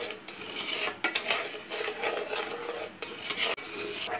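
A spoon scrapes and stirs caramel with butter in a pan over a slow flame, making rhythmic rasping strokes that break off with short pauses, fairly close and fairly quiet.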